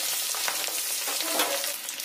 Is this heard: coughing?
no